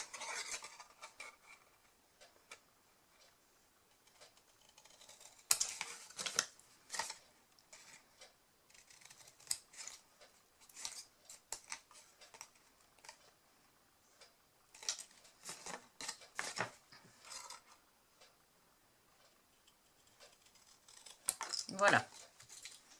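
Scissors or a trimmer snipping scrapbooking paper tabs for a small sliding-drawer box, heard as scattered light crisp cuts and paper rustles in bursts, fairly faint and close.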